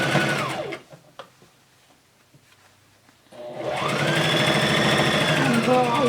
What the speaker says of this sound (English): place it about 1/4 inch away from the edge and start stitching it